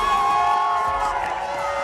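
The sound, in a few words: crowd cheering at X Games snowboard SuperPipe final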